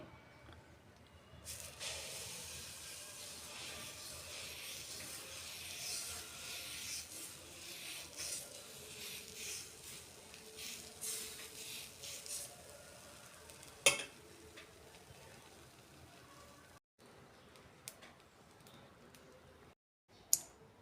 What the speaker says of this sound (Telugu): దోశ పెంకు బాగా కాలింది ఇప్పుడు దోశ వేసుకోవాలి